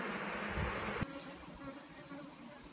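Honeybees at a hive buzz steadily and close up, the hum dropping in level partway through with faint rustling beneath.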